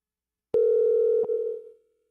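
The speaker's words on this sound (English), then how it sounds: "let's see if we can get Keith on the line" Single steady telephone line tone starts abruptly after a short silence, holds for about a second with a brief click midway, then fades out as a call connects to a guest on a live podcast.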